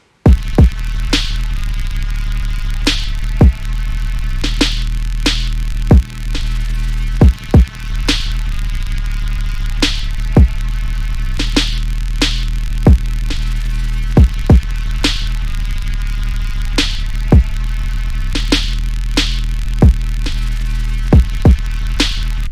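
Heavily compressed synth bass drones steadily with a dense, throbbing low hum, punctuated by sharp repeated transient hits across a long stretch, with no talking.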